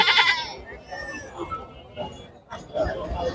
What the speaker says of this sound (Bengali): একটি লাল কালারের খুব সুন্দর একটি খাসি আছে